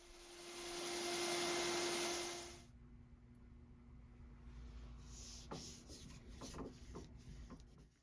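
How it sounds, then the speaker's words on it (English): A wooden lampshade cylinder being sanded on a drill press jig: a loud, steady whirring grind for about two and a half seconds that stops abruptly, followed by quieter rubbing, knocks and handling noises. "I set this jig up on my drill press to sand the cylinder."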